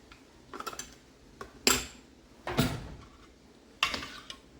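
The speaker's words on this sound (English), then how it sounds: "I'm just going to want to keep stirring and stirring until all of those clumps" A spoon scrapes and clinks against a pot while yogurt is stirred into raw milk, giving a few separate, fairly close strokes with quiet gaps between them and no talking.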